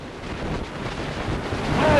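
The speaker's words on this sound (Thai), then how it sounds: "ฝ่าคลื่นในมหาสมุทรอินเดีย" Ocean waves rush against a Royal Thai Navy torpedo boat at sea in the Indian Ocean. A loud, continuous wash of surf and wind roars without pause and swells toward the end.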